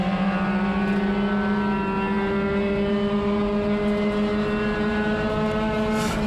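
Spec-Mazda race cars running three wide through turn 1 make a loud, steady, droning engine roar that rises slowly in pitch and holds at full level throughout.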